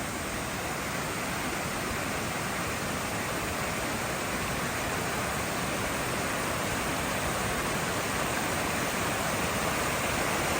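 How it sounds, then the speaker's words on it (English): A waterfall along a trail in Michigan's Upper Peninsula roars as a steady, dense, hissing wash of falling water, unbroken and fairly close throughout. "Second path gives you this waterfall"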